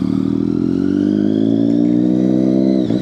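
A motorcycle engine drones steadily while riding, a loud, continuous close-up roar that holds a fairly even pitch and drops away briefly at the very end.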